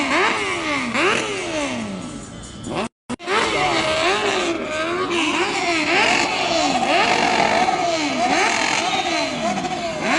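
A motorcycle engine revs repeatedly in rising and falling sweeps, bouncing off the rev limiter amid a loud street crowd near a burning store during a protest, with brief silence partway through and voices throughout.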